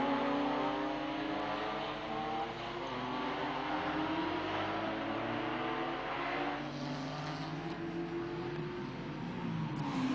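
Race cars, Porsches among them, thunder around the Magny-Cours circuit, their engines revving and droning in overlapping waves at a steady distance, with rising and falling pitch as they pass.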